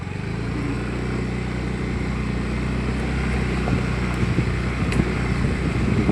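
Motorcycle engine roaring steadily at high speed, a continuous close, loud drone mixed with rushing wind buffeting the microphone, without any talking.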